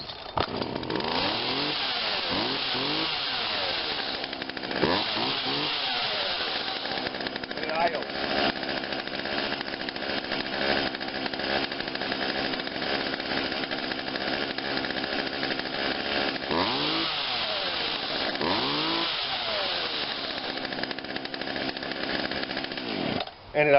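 A Craftsman 16-inch chainsaw made by Poulan runs steadily and settles into an idle, its buzzing engine loud and close throughout while someone talks over it.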